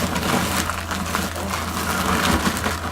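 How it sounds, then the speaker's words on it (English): Vanilla wafers are crushed in a kitchen, a dense, continuous crunching and crackling with a steady gritty texture, close and fairly loud. "the noise you're hearing is me crushing them up"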